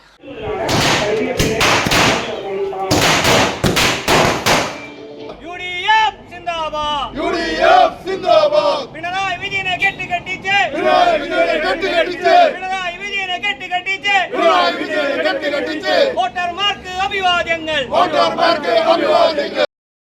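A rapid string of loud bursting firecracker cracks opens, then a crowd of party workers at a Congress office celebrating an election win shouts and cheers together in energetic rhythmic waves.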